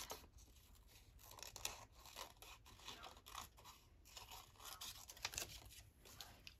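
Small scissors snip through a paper craft tag for an envelope pocket, giving a run of crisp, close cuts and crinkles at a quiet level with no talking.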